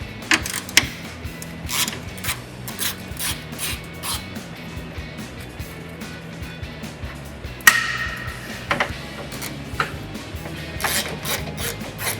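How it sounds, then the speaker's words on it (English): A ratchet with a 10mm socket works the headlight mounting screws on a 2007-2013 GMC Sierra 1500, giving close, repeated bursts of rasping clicks in uneven runs with short pauses and no speech. "That is a 10mm socket with a ratchet."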